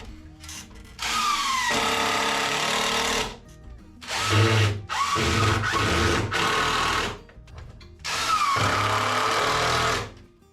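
A power drill driving screws into wood whirs in three bursts of a couple of seconds each, with brief quiet gaps between, close and loud.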